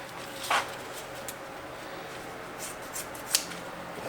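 Scissors make a few short, light cuts through wrap material on a Mustang, snipping softly and close over a quiet background.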